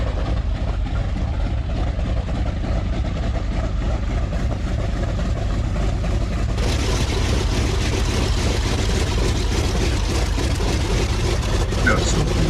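Large motors run steadily with a loud low rumble throughout, growing louder and brighter about halfway through, with a voice talking over the engine noise.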